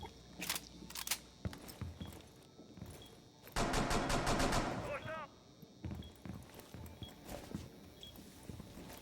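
Gunfire rings out in Rainbow Six Siege: a rapid automatic burst of shots in the middle, with scattered in-game clatter and footsteps around it and players chatting over the action.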